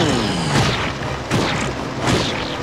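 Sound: cannon shots in SpongeBob Atlantis SquarePantis video game

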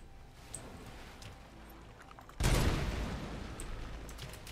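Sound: explosive bullet gunfire in RoboCop: Rogue City video game

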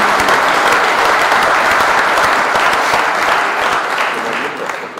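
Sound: applause

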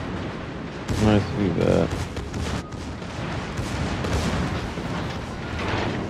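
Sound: Bismarck secondary guns firing in World of Warships video game

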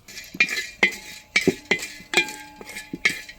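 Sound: dry roasting cardamom, cloves and cinnamon in pan without oil

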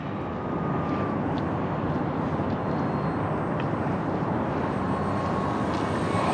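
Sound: E-Flite T-28 Trojan RC plane flying

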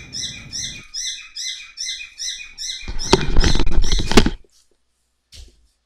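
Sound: pet birds chirping in the room

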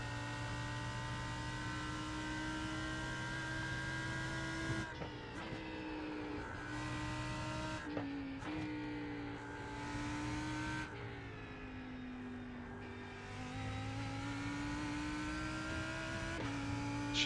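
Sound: race car engine screaming in video game

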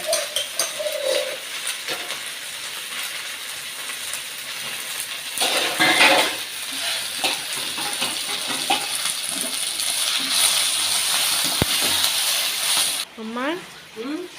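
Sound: washing dishes

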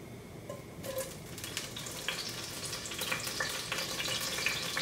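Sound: garlic frying in olive oil

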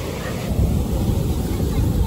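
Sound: wind blowing into the microphone at the beach

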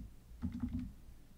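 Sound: typing on a computer keyboard in PowerPoint

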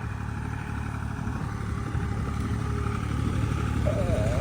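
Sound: tractor driving in first gear, four-wheel drive, hilling potatoes

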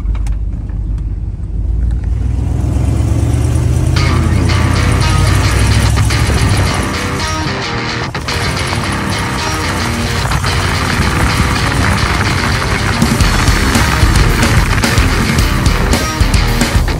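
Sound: Chevy OBS truck engine revving with chattering

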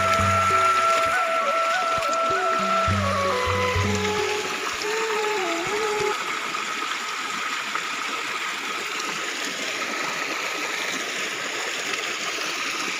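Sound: water flowing at a jungle spring water source

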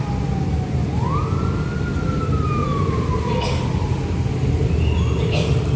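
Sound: ambulance siren approaching at accident scene

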